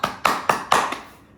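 One person claps during a home yoga and physical therapy exercise, five crisp claps in an even rhythm, close and fairly loud, with the last one fading out.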